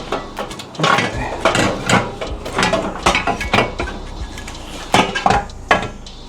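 Metal parts clank and rattle as the front exhaust pipe comes off an FL5 Honda Civic Type-R, held on by 14mm nuts and a hanger: a close run of irregular knocks, scrapes and clatters with no speech.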